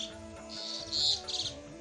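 Small birds chirp at a cow shelter: a few brief, high twittering calls over a steady low background hum, fairly faint and distant.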